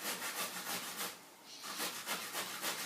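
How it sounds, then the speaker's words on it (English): Soft zucchini (courgette) is grated close by in quick, even rasping strokes, with a brief pause midway before the rhythmic scraping resumes. "the next thing we need to do is grate our zucchini or courgette"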